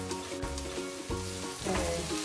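Onions frying in a pan for Punjabi baingan bharta, steady sizzling under a droning tonal background with a few soft stirring knocks.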